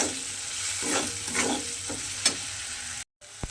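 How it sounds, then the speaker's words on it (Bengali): Radish frying in a pan with ground spices, a steady hiss of sizzling oil with repeated scraping stirs, a short dropout near the end, no voices. "গুঁড়ো মশলাগুলো দিয়ে খুব ভালোভাবে একটু কষে নিতে হবে"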